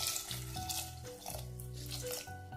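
Water pouring into a cooking pot to boil lentils for a country chicken bone broth curry, a steady splashing stream with shifting tonal ringing as the pot fills, close and alone.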